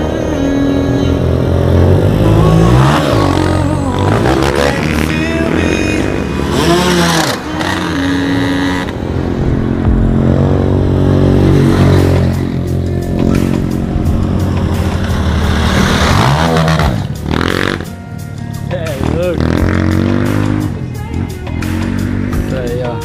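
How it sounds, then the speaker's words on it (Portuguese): Many trail motorcycles at a dirt bike event, engines revving and passing one after another with rising and falling whines, loud and close, while people talk over the noise. "Tem bem mais de 500 motos aqui."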